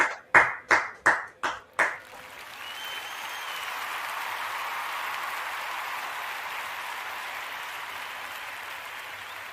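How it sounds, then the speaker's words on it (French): A few sharp individual claps ring out near, then give way to sustained applause from an audience at a church night of prayer. "Let's clap for the Lord."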